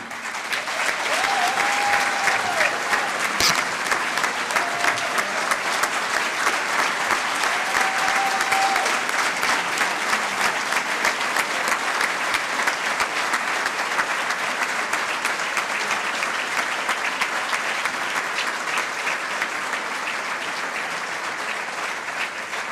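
Banquet audience gives sustained, even applause after a keynote speech, a thick steady roar of many hands clapping at close range, with a faint brief whistle near the start.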